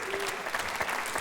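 Applause from mourners at a funeral, a short dense patter of many hands clapping at once, steady and moderately loud across the whole moment.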